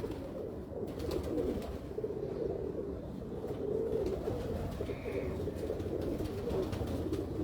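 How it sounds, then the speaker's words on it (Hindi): Pigeons at a rooftop loft coo in a steady, layered low murmur, several birds overlapping continuously at moderate distance, with a brief higher call near the middle. "ये मैं आपको वो कबूतर दिखाने लगा हूँ।"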